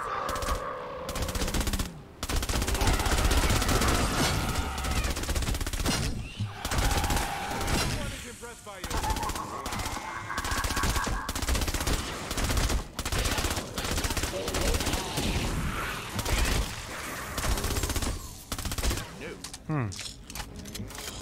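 Candy Corn LMG machine gun in Fortnite Save the World fires in long rapid bursts with short pauses, loud and close, mixed with game effects and a voice talking over it.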